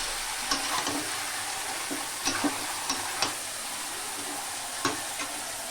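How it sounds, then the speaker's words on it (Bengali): Pointed gourd curry and a chicken dish cooking side by side in two woks, a low steady sizzle broken by occasional sharp clinks and scrapes of stirring. "দুদিকে দুটো কড়াই রান্না চলছে"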